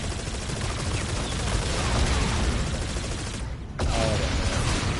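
Sustained automatic gunfire in a Call of Duty: Infinite Warfare zombies match, dense and continuous, with a brief dip near the end before the shooting resumes at full loudness.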